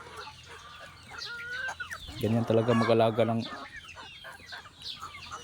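Chickens cluck in a rural yard, scattered calls building to a loud burst of rhythmic clucking in the middle before trailing off, close by, with someone talking at times.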